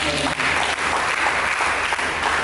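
Church congregation applauding during a sermon, a loud, dense, continuous wash of many hands clapping close by, sustained without pause.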